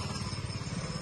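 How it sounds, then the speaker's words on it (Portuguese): A motorcycle running with only a bare straight pipe for an exhaust, out on a town street, gives a loud, close, throbbing low engine note with a steady pulsing rhythm for about a second. "As motorizadas tá só o cano, ó."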